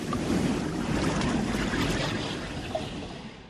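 A huge ocean wave crashes in a steady, dense roar of rushing water and wind-like hiss, loud and unbroken, gradually easing slightly toward the end.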